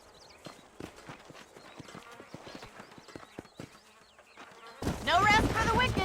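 Horse hooves clip-clop in the Western video game Red Dead Redemption, a quick uneven series of near, crisp hoofbeats from a small herd, before a sudden burst of louder rushing noise at the end.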